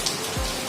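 Steady rain falls close by while someone waits for it to ease, a continuous hiss of drops on surfaces with a few soft low thumps, loud and unbroken for the whole short stretch.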